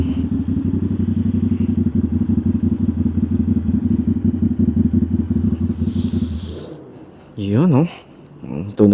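A Yamaha R6 sport motorcycle idles and revs steadily nearby, a loud dense engine drone for most of the clip before it drops away and people begin talking over the quieter scene.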